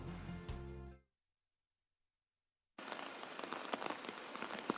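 Rain falls steadily during monsoon flooding in Metro Manila, a dense hiss of drops on surfaces that cuts in after a stretch of silence, following a brief burst of other sound at the start.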